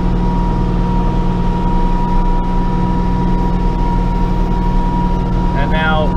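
Steady engine drone of a Bobcat tractor held at about 2400 RPM on PTO cruise, a constant loud hum with a strong tonal whine and no change in pitch, with a brief faint voice near the end.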